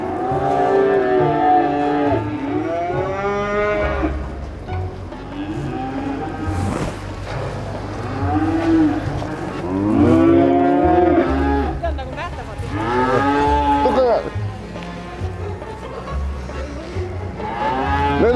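Young heifers on an Estonian farm moo repeatedly and loudly, long drawn-out calls following one another in close succession across the whole stretch, with low rumbling farm background underneath.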